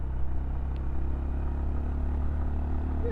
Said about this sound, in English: it's a nice pleasing exhaust note